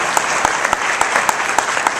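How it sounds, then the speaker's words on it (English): An audience applauds during a radio show event, brisk continuous clapping with a few sharp louder claps standing out, close and fairly loud for about two seconds. "give yourselves a round of applause for showing up"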